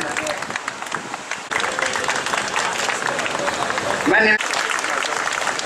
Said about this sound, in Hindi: जोरदार तालियों से हमारे मुख्य अतिथि महोदय का स्वागत